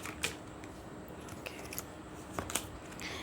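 Tarot cards being shuffled and drawn from a deck, heard as a few quiet, scattered crisp flicks and snaps over low room noise.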